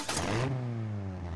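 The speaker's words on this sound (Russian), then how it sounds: "Мы собрали мусоровоз «Монстр-трак»." A cartoon monster truck garbage truck engine revs with a burst of noise that settles into a throaty, descending motor hum, loud and close with no talking.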